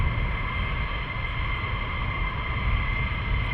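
A military jet taxis at RAF Lakenheath, its engines giving a continuous loud whine with a steady high-pitched tone over a broad rushing roar, held at an even level.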